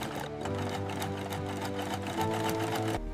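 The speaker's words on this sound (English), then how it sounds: "Plant-based leather must accept tight, precise stitching without tearing." A sewing machine stitches a pineapple-leaf plant-based leather shoe upper in a steady, continuous mechanical whir with a rapid needle rhythm, close and loud, running alone for about three seconds before stopping abruptly.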